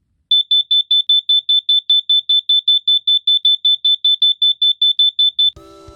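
A carbon monoxide detector alarm chirps in a rapid, regular string of shrill high beeps, loud and close, then stops abruptly.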